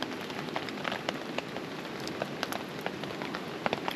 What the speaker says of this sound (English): We've had some serious rain tonight.